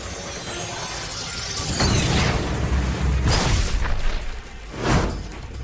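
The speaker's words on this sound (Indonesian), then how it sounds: "Ledakan cahaya." A light explosion effect from an animated fight scene bursts in with rising whooshes and booming, crackling blasts that swell, fade and flare again near the end.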